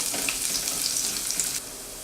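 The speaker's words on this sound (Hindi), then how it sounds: "अब हम इसमें डालेंगे कटी हुई लहसुन, कटा हुआ अदरक, कुछ देर के लिए पकाएंगे।" Chopped garlic and ginger fry in a pan for okra curry, a bright hissing sizzle that runs close and steady for a moment before dropping away to quieter crackle.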